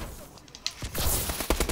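Gunfire from a gun in a first-person shooter, the supply drop challenge, cracks out in loud sharp bursts, a pair of shots near the middle and a denser volley toward the end, over a noisy game backdrop.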